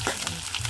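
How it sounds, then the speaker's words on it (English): Hot oil sizzles and pops around garlic pigtails frying in a pan, a brief, close crackle of spitting grease. "Hearing the popping, the oil and the liquid inside of it"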